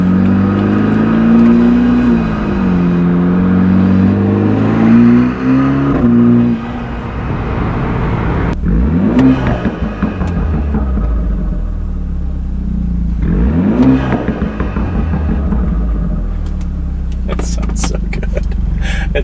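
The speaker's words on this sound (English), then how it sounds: "I was looking to get the best burble and like pop sound out of it" A BMW F30 exhaust tuned with bootmod3 rumbles and revs up and down under the talk of people inside the car, with deep burbles and crackling pops as revs fall, close and loud over a steady road drone.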